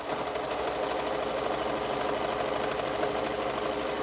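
A sewing machine stitches a quilt seam, a continuous close-up mechanical whir with a fast steady rhythm running throughout, no talking.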